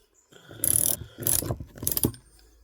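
A hand-cast JB Weld epoxy nut having its thread stripped on a bolt, heard as three short, close bursts of gritty ratcheting and grinding separated by brief pauses.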